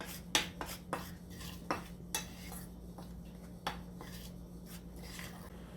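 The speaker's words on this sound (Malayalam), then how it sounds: "ഒരു സ്പൂൺ വെച്ചിട്ടോ അല്ലെങ്കിൽ നമ്മുടെ കൈ കൊണ്ടോ എങ്ങനെ വേണമെങ്കിലും നമുക്ക്" A spoon mixes chicken pieces in a bowl, making a scattered series of light clinks and scrapes against the dish, close and fairly quiet, with no talking.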